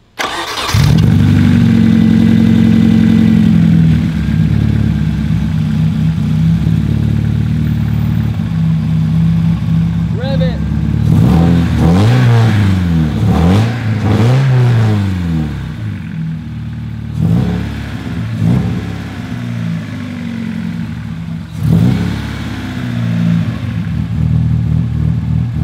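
Nissan 240SX engine with a freshly bolted-up exhaust cranks and fires, settles into a steady idle, then revs up repeatedly in rising and falling sweeps with a slightly raspy edge at high RPM, loud and close throughout.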